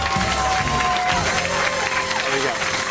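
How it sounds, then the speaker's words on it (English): Studio audience applause on a live breakfast TV show, a dense steady wash of clapping with some cheering, loud and continuous throughout, with a few faint voices mixed in. "I think they deserve a round of applause just for making it this far."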